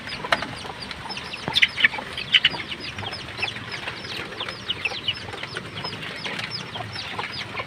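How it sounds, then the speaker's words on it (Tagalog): Chicks on a farm peep and cheep in short, scattered high chirps, some louder bursts near the start, over a steady low background hiss, with no talking. "Yung sisiw."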